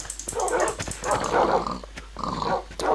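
Wolves in the Minecraft video game bark and growl in close, repeated bursts, a loud rough snarling that rises and falls over a few seconds with brief gaps between.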